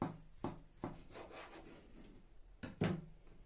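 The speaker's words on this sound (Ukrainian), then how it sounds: "зараз ми з вами будемо різати крайчик" A knife cutting off the edge of a food on a board, several distinct rasping strokes with sharp onsets, close and fairly quiet.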